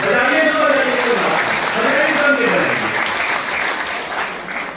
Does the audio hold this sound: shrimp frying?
no